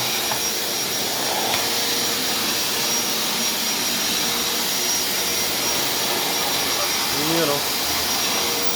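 A Black & Decker vacuum cleaner runs steadily in a gym, a constant loud whirring hum that goes on without a break while someone speaks briefly over it.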